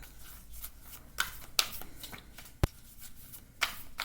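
Oracle cards being shuffled by hand, quiet soft riffling with a few sharper taps and flicks scattered through, no talking.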